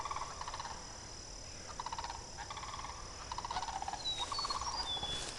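Birds call outdoors on a walk in a series of short, bubbling, gobble-like bursts that come in clusters, fairly faint over a soft background hiss.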